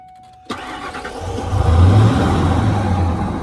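A Ford F-150 pickup truck engine cranks and catches after a brief quiet moment, then settles into a loud, rough idle with a low rumble, close by.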